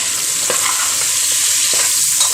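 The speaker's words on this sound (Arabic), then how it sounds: "وهقوم جايه التوابل بتاعتي انزل بيها كلها اهي شايفين كده، واخليها تاخد تقليبه معايا حلوه" Chicken with spices and onions stirred in a hot pot, a loud close sizzle and crackle under a steady hiss, with a few soft knocks of the spoon against the pot.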